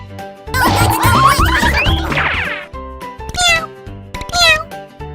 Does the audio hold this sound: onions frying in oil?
no